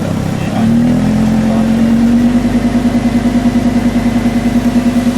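A 2017 Lamborghini Huracán V10 idling in Corsa mode, its note stepping up into a steady, deeper drone with a pulsing, burbling rhythm, loud and close with no talk over it.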